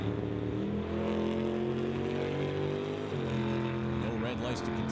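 Vintage drag racers, among them a 1968 Plymouth, launch and run at an old-time drag event, their engines droning with steady harmonic pitch that dips and climbs as gears change, loud and continuous beneath a commentator's voice.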